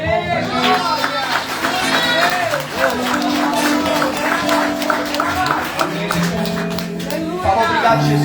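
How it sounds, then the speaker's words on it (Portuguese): A church congregation applauding and cheering loudly for Jesus, with voices and a lively hubbub mixed through the clapping. "Você pode dar uma salva de palmas pra Jesus?"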